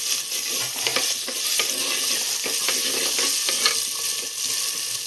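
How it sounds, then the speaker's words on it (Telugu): Cucumber pieces are stirred through hot oil in a pan, giving a loud, continuous sizzle with scraping and crackling throughout. "ఈ నూనెల్లో వేసుకోవాలి ఓకే దోసకాయ ముక్కలు వేసుకొని మంచిగా కలుపుకోవాలి"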